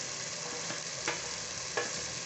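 Cabbage fries in a pan alongside already-browned cauliflower in a mixed-vegetable sabzi, a steady close sizzle punctuated by two sharp stirring clicks, with no speech.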